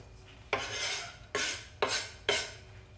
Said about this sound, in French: Dans une poêle, je vais mettre les échalotes et je vais mettre le noilly.